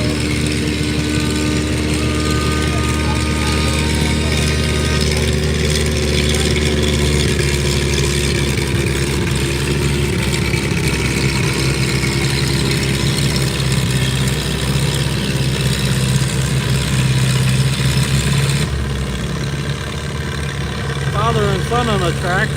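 Antique tractor engines labor at a tractor pull at the Harvest Barn in Sugar Creek, Ohio, a loud, steady, throbbing engine roar sustained throughout with crowd and announcer chatter mixed in.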